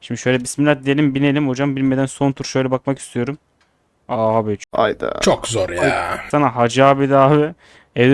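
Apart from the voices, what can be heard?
No everyday noises stand out.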